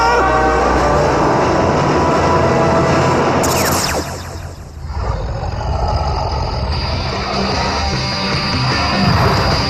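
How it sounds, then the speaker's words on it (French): A Paris Métro subway train roars past loudly and steadily, its rumble and rattling wheels filling the space, with a brief high screech partway through. "Ah, le métro, sauf qui peut."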